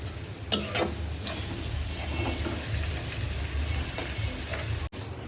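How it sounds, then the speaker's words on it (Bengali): Chopped onions fry in a pan for a spicy country-chicken chui jhal curry, a steady close sizzle broken by occasional stirring scrapes and no talking. "পেঁয়াজ কুচি দিয়ে পেঁয়াজটা লাল লাল হওয়া পর্যন্ত একটু ওয়েট করতে হবে"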